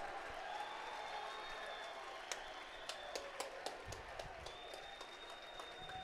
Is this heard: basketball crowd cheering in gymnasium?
yes